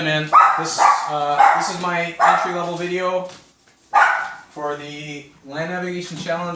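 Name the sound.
dog barking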